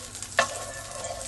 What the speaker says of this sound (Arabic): معلقه زبده تشوحها كده